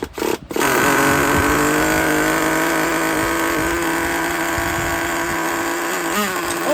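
A used Traxxas Nitro Slash 3.3 nitro RC car engine screams at high revs, a loud, steady buzzing whine that holds nearly constant after a brief sputter at the start.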